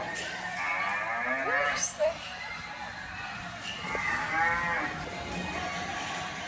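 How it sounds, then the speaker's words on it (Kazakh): A cow being milked lets out long mooing calls, two or three drawn-out lows rising and falling at moderate distance, with faint voices and farmyard noise beneath. "Қатты сауып жатқандай болады."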